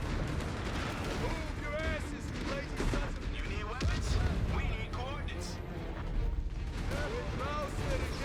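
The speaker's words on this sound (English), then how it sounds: "I'm using satchel charges to destroy the anti-air batteries" Satchel charges blow up anti-air batteries in the Company of Heroes 3 strategy game, a deep boom near the middle amid scattered battlefield gunfire, with faint talk in the background.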